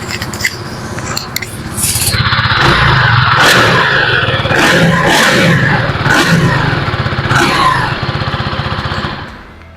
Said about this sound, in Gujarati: દોસ્તો હવે ટાઈમ થઈ ગયો છે આનો એક્ઝોસ્ટ નોટ સાંભળવાનો